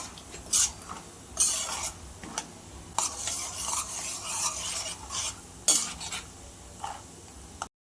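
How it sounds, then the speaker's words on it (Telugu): One cup of peanuts deep frying in hot oil, a continuous bubbling sizzle broken by repeated sharp scraping and clinking strokes of a metal spoon against the pan, close and fairly loud. "ఒక కప్పు పల్లీలు డీప్ ఫ్రై చేసుకుందాం"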